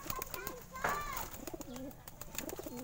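Pigeons coo in soft, low repeated phrases at close range, mixed with a few brief chirps and steady background noise, while a person talks over them.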